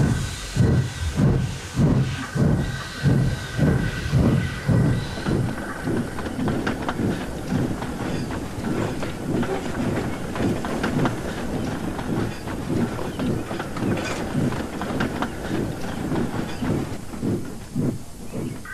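Flora the steam tram chuffs along the tracks in a steady rhythm of hissing puffs, loud at first and then settling into a quicker, continuous beat with steam hiss.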